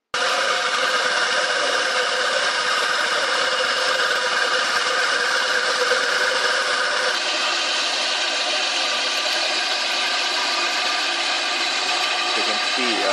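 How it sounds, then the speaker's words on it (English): At a quarry, a laterite stone cutting machine runs with a loud, constant grinding whine and engine drone that holds steady throughout, shifting slightly in tone midway. "So it's this machine is used to cut the land in a particular fashion or a pattern"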